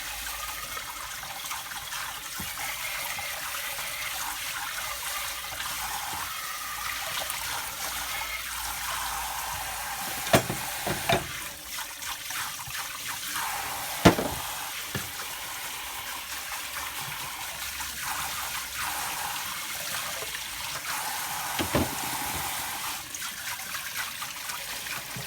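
Running water rinses Dyson DC25 vacuum parts, a steady trickling and splashing stream with a few louder clunks and splashes as the parts are handled, close and continuous.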